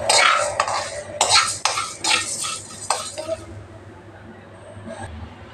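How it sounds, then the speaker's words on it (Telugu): Coriander, fenugreek and cumin seeds dry roast in a pan, stirred with a utensil that makes a run of scraping, rattling strokes. The strokes are loud at first and fade to quieter shuffling. "కొంచెం జీలకర్ర వేసి వేయించాలండి."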